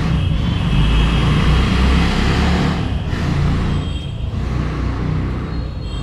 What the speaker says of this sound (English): Someone wanted to do a show off on their exhaust outside on the road.